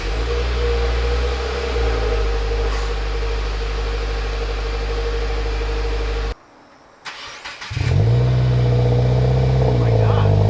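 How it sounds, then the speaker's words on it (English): A 2021 Subaru WRX fitted with an Invidia R400 catback exhaust cold-starts: a steady loud low exhaust drone, a brief cutout, then the engine fires and settles into a deeper, louder rumble, with people talking nearby. "here's a cold start, and we'll check for leaks"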